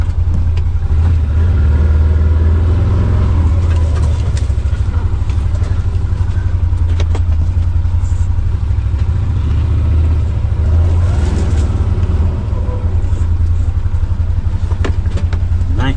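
A vehicle engine runs steadily at close range beside the Tug river in the Appalachian Mountains, a loud continuous low rumble with slight variations in revs throughout.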